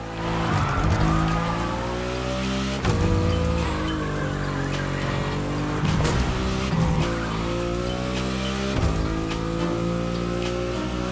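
Car drifting in the racing video game The Crew Motorfest, with a loud, continuous engine roar and tire squeal that rise and fall as the car slides through repeated corners and gear shifts, no talk.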